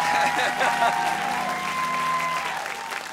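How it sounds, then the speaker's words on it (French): Studio audience at a French television variety show applauding, with sustained, even clapping throughout and a faint musical tone running underneath. "Applaudissements, s'il vous plaît."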